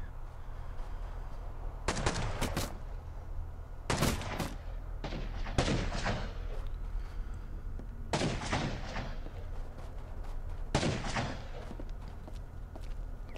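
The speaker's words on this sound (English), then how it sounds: "You'll notice, guys, the volleys of gunfire that are going back and forth" Repeated volleys of gunfire exchanged during a base raid in the video game Rust, sharp bursts recurring every couple of seconds over a low constant rumble, loud and close with no talk.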